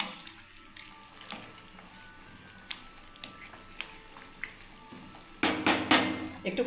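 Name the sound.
mango chutney simmering in a pan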